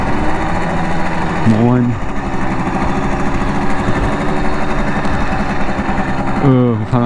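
A Simson moped's small two-stroke engine runs loud and close with a buzzing, rattling drone, its pitch sliding up and down as the throttle changes, with a brief spoken greeting.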